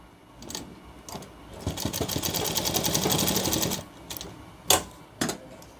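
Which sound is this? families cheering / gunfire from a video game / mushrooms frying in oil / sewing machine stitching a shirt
sewing machine stitching a shirt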